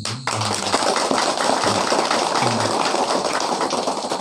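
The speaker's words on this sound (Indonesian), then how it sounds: "Tepuk tangan" Audience at a Balinese Hindu dharma talk gives a loud, thick burst of clapping that starts abruptly and keeps going steadily, with a brief voice at the very start.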